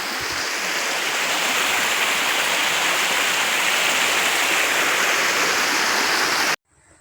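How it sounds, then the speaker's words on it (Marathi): Heavy monsoon downpour during the Ganpati festival season in Rajapur, Sagve Ghodepoi, in the Konkan, a dense, steady, loud hiss of rain that continues unbroken for about six seconds before cutting off abruptly. "पाऊस तर सारखाच आहे थांबतच नाही"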